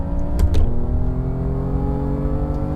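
Simulated BMW M3 engine from the Assetto Corsa racing game on a track day, a steady loud droning note held at sustained revs with a brief rising burst early on, alone without talk.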